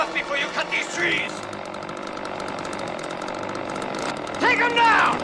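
A chainsaw drones steadily at mid pitch during an axe-versus-chainsaw fight in the 1979 film Prophecy, with shouting voices over it at the start and end.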